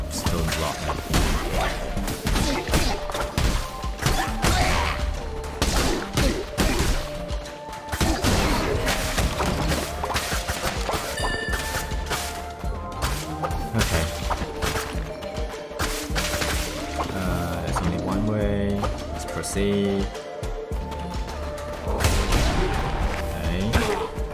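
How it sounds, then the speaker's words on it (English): Rapid, dense explosions and crashing blasts from a base-defense video game on hardest difficulty pound almost without pause, loud and chaotic, with a player talking over them. "That's a lot of explosion."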